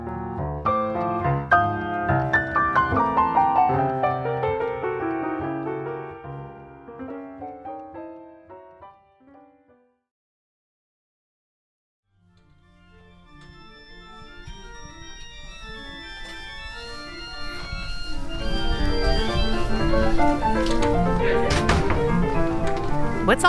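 Music students practicing at Duke University's Biddle Music Building: a piano run fades away, a brief silence follows, then a mix of overlapping instruments and scattered practice sounds builds up.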